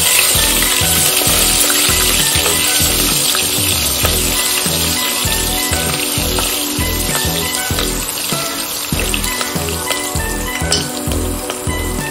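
Finely chopped green chillies sizzle and crackle in hot oil for a veg pulav, a loud, continuous frying hiss with bubbling, heard alone and close.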